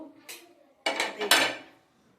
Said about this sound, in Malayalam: നമ്മൾ പാത്രം എടുത്തു